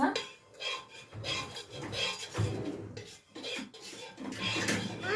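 A spoon scrapes and rubs against a pot while beef head and trotter soup is stirred, giving soft rhythmic rasping strokes at moderate volume with short pauses between them.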